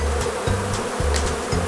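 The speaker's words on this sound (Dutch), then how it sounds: "het zit bomvol met bijen" Honeybees buzzing densely inside a packed hive while a beekeeper places a honey super, a continuous close drone with a low pulsing hum and occasional brighter wingbeat flares, no talking.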